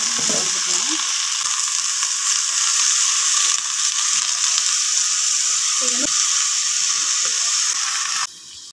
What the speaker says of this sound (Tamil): நல்லா வதங்கிருச்சு முருங்கைக்கீரை, நல்லா வதங்கிருச்சு.